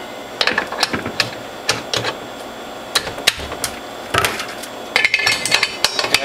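Clacking plastic and metal parts click and knock in irregular bursts as a cutter is fitted onto a Whole Health Foundation juicer, the taps close and crisp with brief pauses between groups.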